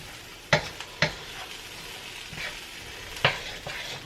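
Peas stir-fry in a pan with sesame oil, a soft, steady sizzle broken by a few sharp clacks of a utensil against the pan, with no talk.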